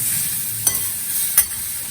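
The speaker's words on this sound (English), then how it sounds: "Just stirring." Grated carrot stirred in a pan with a utensil, a faint steady background hiss broken by two short scraping strokes about a second apart.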